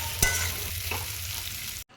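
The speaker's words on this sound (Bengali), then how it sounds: "এরপরে ভেজে নেব গাজর" Carrots fry in a pan with a close, steady sizzle, a sharp clack of a utensil near the start and a few soft scrapes, cutting off abruptly just before the end.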